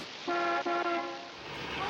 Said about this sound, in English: She goes and gives the horn